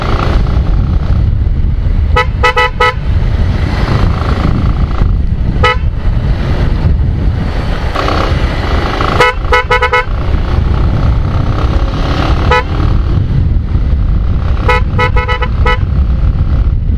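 A motorcycle's dual-tone horn honks loudly in repeated short bursts and double toots over a constant roar of engine and road noise while riding on a highway.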